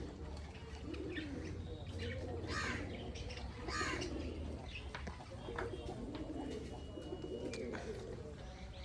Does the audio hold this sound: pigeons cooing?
yes